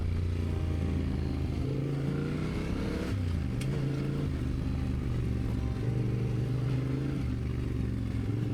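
A motorcycle rides along forest backroads in Central California, its engine droning steadily and close throughout with rough road clatter and a brief shift in pitch midway.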